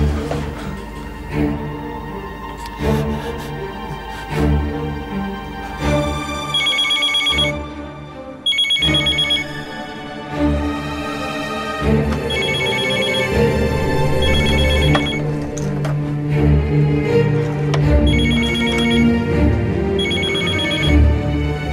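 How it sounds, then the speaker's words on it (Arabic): A telephone rings repeatedly in an Arabic drama series, its bell bursts coming in a steady pattern over background music with no talk. "ردي على التليفون، ردي"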